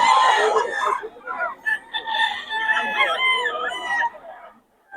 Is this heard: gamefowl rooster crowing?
yes